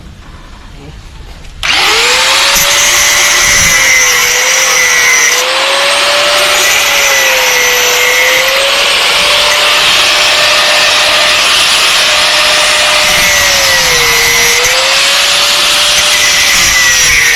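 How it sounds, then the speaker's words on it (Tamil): A power tool cuts through the wire rope of a coconut tree climbing machine, starting abruptly and then running as a loud, steady whine with a slightly wavering pitch, continuous and close throughout. "இப்போ அடுத்து இந்த கம்பியை கட் பண்ணிட்டு மாற்ற போகிறோம்"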